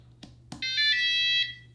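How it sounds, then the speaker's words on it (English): A Kwikset 905 keypad deadbolt gives a short electronic beep after its batteries are installed: two faint clicks, then one clear, loud, steady tone lasting about a second, heard alone. "when you're finishing with installing the batteries, you will hear a beep that indicate that the lock is working"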